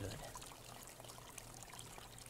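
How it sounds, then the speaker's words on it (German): Water pours and trickles steadily as a water bottle is refilled in the video game Downward, a faint, continuous stream running alone throughout. "Kann ich hier meine Wasserflasche auffüllen?"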